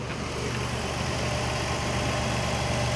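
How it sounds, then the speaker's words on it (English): A Jeep Liberty engine idles steadily with a low, even rumble and no other sounds. "Engine sounds really good."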